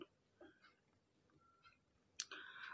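A mouse click selects the search menu in the KAI Access train ticket app, a sharp click near the end, followed by a louder steady electronic tone.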